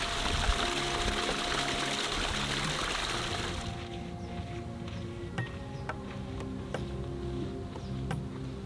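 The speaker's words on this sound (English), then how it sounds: "The water is just a little bit of a trickle." A mountain stream on the Seven Falls trail in Tucson, Arizona, trickling and splashing steadily nearby, a dense watery hiss at first that thins to a softer, quieter dribble with small drips.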